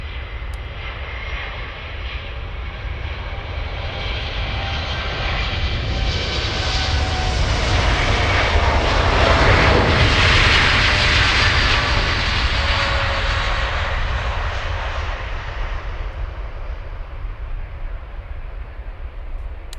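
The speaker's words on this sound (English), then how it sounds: "Let's go for the 787 Dreamliner" A Boeing 787 Dreamliner jet at Munich airport passes with a loud, sustained engine roar that swells to a peak midway and then slowly fades, with no voices over it.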